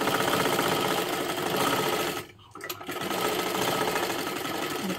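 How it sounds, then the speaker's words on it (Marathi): A sewing machine double-stitching seams on a princess blouse, running at a steady, fast whirring pace with a brief slowdown just before the middle, close and alone. "आता परत एकदा आपल्याला त्याच्यावरती डबल शिलाई मारून घ्यायची आहे."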